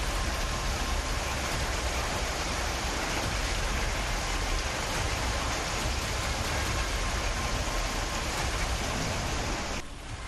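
Heavy monsoon rain pouring steadily in hilly terrain, a dense, continuous roar of downpour that stays loud and even throughout, with no voices.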